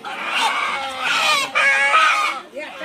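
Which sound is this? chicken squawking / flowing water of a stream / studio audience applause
chicken squawking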